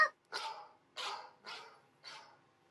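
A dog barks five times in a steady, evenly spaced series, each bark sharp and close, with near silence between them and no talking.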